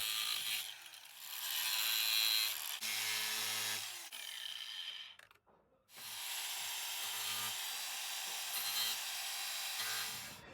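An angle grinder fitted with a very thin 0.75mm metal grinding disc cuts out old broken plastic from a Mercedes R107 door pocket. It gives a loud, sustained high whine in two long passes, briefly spinning down between them.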